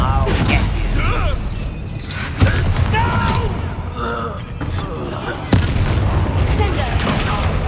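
Confringo fire spells in Hogwarts Legacy go off as repeated booming blasts with sharp cracks amid clattering combat noise, while a voice shouts and other voices call out over the fight.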